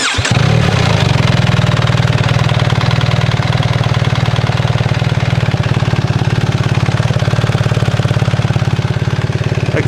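A BMW R1300 GS motorcycle engine fitted with an aftermarket exhaust runs loud and close throughout, a steady deep throbbing idle with a strong low rumble and no voices.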